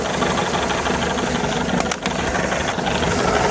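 A 1979 Mercruiser 3.0L 140hp marine engine fitted with a Delco Voyager EST ignition runs with the throttle advanced, giving a loud, steady close-up drone with a brief dip near the middle.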